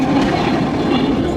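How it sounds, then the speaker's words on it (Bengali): A train rolls past loudly and close on a railway track beside a road in Cumilla, with a heavy continuous rumble and rhythmic wheel clatter on the rails. "এই যে ট্রেন যাচ্ছে"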